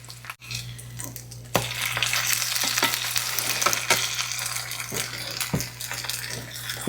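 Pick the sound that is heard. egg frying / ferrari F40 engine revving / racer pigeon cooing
egg frying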